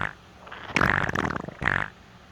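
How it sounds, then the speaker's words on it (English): Two fart-like bursts sound close and alone in a quiet indoor room: a longer, rippling one, then a shorter second puff. No one speaks. "maybe it's a farting ghost or something."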